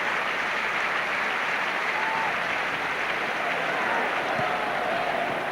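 Steady applause from a football stadium crowd as an injured player, David Lee, leaves the pitch during a Chelsea vs Tottenham Hotspur match in 1996-97, a continuous broad wash of clapping with no voices on top.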